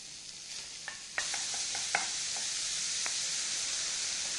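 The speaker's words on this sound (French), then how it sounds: "on prend une poêle, sur feu vif, on ajoute un tout petit morceau de beurre et on va faire rôtir la viande de bœuf" Ground beef browning in a little butter in a pan over high heat, a soft sizzle beneath a few sharp clicks and scrapes of stirring.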